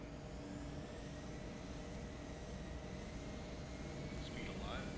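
Simulated Embraer E190 jet in JetBlue livery rolling for takeoff at Dulles, a steady broadband engine roar holding loud and even throughout, with faint tonal whine and a slight swell near the end.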